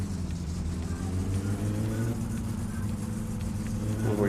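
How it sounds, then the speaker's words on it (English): Car engine in the video game My Summer Car, a steady low droning roar with layered harmonics that rise slightly in pitch near the end, continuous and fairly close throughout. "So I'm not just listening to a roaring engine for 20 minutes."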